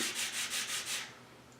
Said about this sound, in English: you just put it on a sandpaper here on the block and you clean it all up nicely